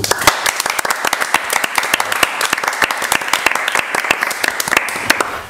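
Audience applause on a reality show stage, a dense run of sharp overlapping claps at steady loudness, close and filling the whole stretch with no voices on top.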